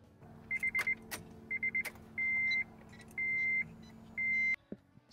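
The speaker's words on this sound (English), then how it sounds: "put the key into the ignition and turn it on" Car ignition turned on with the key, followed by a series of electronic chimes: short beep groups, then three longer tones, over a faint steady hum.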